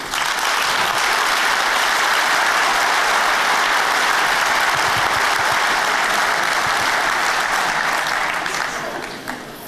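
At the Rinus Michels Award ceremony for Dutch football coaches in 2013, an audience gives loud, sustained applause that holds strong for several seconds before easing off at the end.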